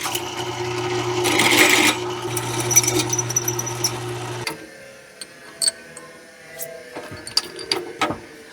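A power drill bores a lug hole in a wheel hub during a six-to-five lug swap, whining steadily for about four seconds before stopping, followed by scattered clicks and taps of handling the tool and metal.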